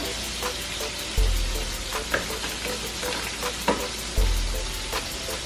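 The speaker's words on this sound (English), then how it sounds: "And we're gonna stir this up." Food frying and sizzling in a pan while spices such as oregano and paprika are stirred in, with steady close sizzle, scraping utensil strokes and a couple of louder stirring knocks.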